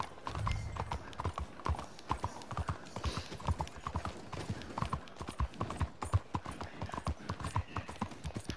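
Horse hooves clip-clop at a steady walking rhythm in the Western video game Red Dead Redemption 2, the quiet, even footfalls continuing throughout with faint ambient game sound beneath.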